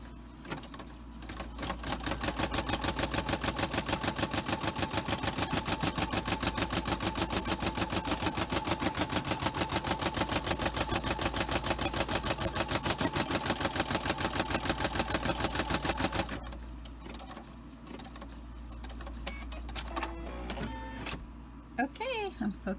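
Home embroidery machine stitching an in-the-hoop doll house pillow case design, a steady rapid needle chatter running loud and continuous for about sixteen seconds before stopping, followed by quieter handling clicks and light rustling.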